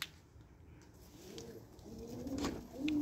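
Pigeons coo softly in a quiet loft, a few low burbling calls that grow slightly louder toward the end, with no talk.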